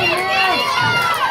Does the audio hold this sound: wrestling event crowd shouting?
yes